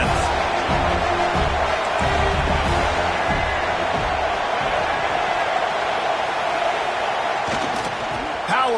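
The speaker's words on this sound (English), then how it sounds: "Listen to this crowd just shaking the girders of this place trying to help their defense." Dense roar of a college football stadium crowd cheering to rally the defense during an NCAA game, loud and sustained throughout with a commentator's voice over it.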